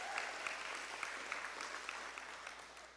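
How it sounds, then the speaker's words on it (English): Faint applause from a crowd, a soft steady patter of clapping that fades slightly toward the end. "thank you, I will take the applause"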